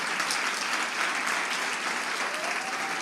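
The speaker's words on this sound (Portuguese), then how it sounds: "Você pode aplaudir a Deus pela vida do Gustavo" Sustained applause from a church congregation during a Sunday celebration service, a dense, steady wash of many hands clapping together, fairly loud and continuous throughout.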